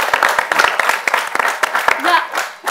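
Applause from a studio audience at a film discussion panel, dense irregular claps with a few sharp loud hits, mixed with voices and chatter throughout.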